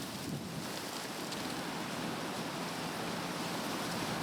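Wind gusting outdoors in an open field during a turkey hunt, a steady broad rushing roar buffeting the microphone close up, with no voices.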